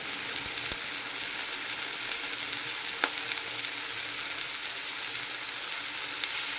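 Masala spice paste for an amudi fish curry fries in oil in a pan, a steady close sizzle with a few faint clinks and stirring sounds.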